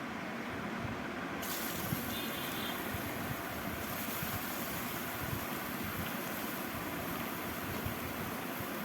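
Cut bottle gourd goes into hot oil tempered with cumin and bay leaves, giving a loud, continuous hissing sizzle that brightens after the first second and stays steady throughout, with no talking.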